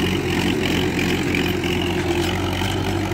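A 1985 Mahindra 275 four-cylinder tractor engine idles with a steady, deep, continuous rumble, loud and close, with no talk over it.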